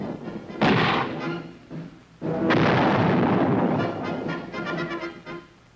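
Artillery fire from 1968 Vietnam battle footage of the 4th Infantry Division at Dak To: two heavy booming blasts with long rumbling decay, loud and without talk.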